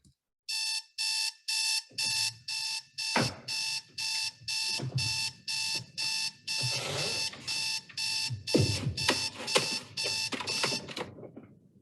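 Alarm clock ringing in a film scene, a loud close electronic beeping in a steady rhythm of about fourteen bursts, with thuds and rustling underneath toward the end.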